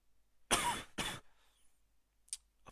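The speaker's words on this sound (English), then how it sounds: "Apologies for coughing in your guys' ears" Two sharp, harsh coughs close to the microphone, a short pause between them, followed by quiet and a faint brief noise.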